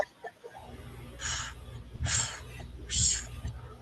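Three slow, deep breaths with audible airy inhales and exhales, evenly spaced and close to the listener.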